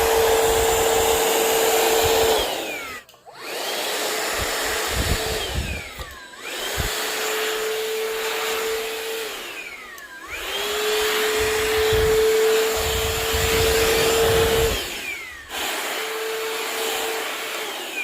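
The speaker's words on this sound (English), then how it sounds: "Lots of vacuum power." A Shark VacMop cordless vacuum mop motor runs loudly in several long stretches, its whine dipping and rising between short breaks as the machine is pushed along.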